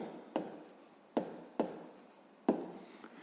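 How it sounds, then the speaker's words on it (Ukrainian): Pen writing a maths answer on paper, four distinct close scratching strokes each starting with a tap and trailing off, quiet and without speech. "Ну що ж, записуємо тоді відповідь."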